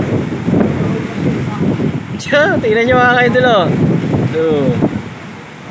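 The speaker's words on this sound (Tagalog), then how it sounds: "Galit na galit siya, galit na galit yung alon. Sobrang laki." Big, rough sea waves and strong wind off Lagen Island, El Nido, Palawan: a constant loud, close roar and rush, with someone talking over it.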